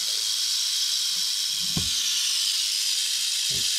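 A rattlesnake gives a steady, close, continuous buzzing hiss of rattling throughout, with a few faint low thumps underneath and no voices.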